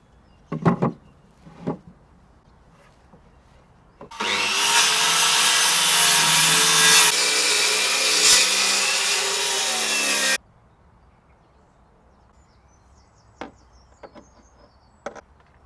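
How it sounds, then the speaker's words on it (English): Wooden table legs being trimmed by a saw, a loud continuous cutting roar lasting several seconds, with scattered knocks and handling sounds before and after. "cut a little bit off the bottom of them all"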